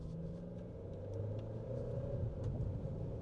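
Jetour T1 Prestige SUV pulling away smoothly after a slight delay, a steady low engine and road rumble that builds gently over a few seconds, close and moderately loud with no talking.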